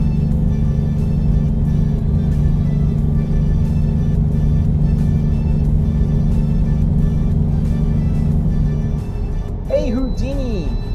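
A truck drives in a PC truck simulator game, a continuous low engine drone holding steady, then dropping off near the end as a voice speaks over it.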